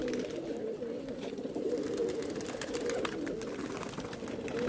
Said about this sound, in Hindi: ये कलमुहे है, कलमुहे कबूतर आप देख सकते हैं।